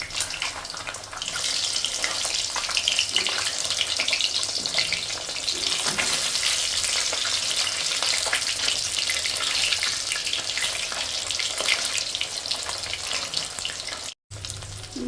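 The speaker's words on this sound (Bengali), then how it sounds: "এরকম কড়া করেই ভাজতে হবে" Katla fish fillets frying crisp in hot oil give a loud, steady sizzle with crackling texture throughout, briefly dropping out near the end.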